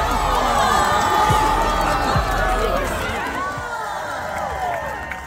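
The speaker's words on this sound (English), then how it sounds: "cheered on by an enthusiastic crowd" An enthusiastic crowd cheers and shouts at a dachshund race in Cincinnati, a busy roar of voices under a narrator's steady talk that eases off toward the end.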